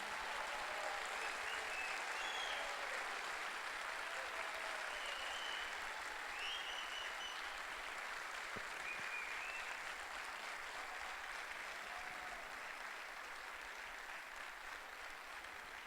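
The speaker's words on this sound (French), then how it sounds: "Donc à vous de les applaudir" Steady, dense applause from a seated audience at a Moroccan thesis-presentation final with 20 candidates, continuous and even throughout, with faint whistles and cheers rising above the clapping.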